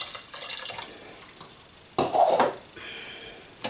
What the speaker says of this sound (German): Und ein kleines bisschen Wasser.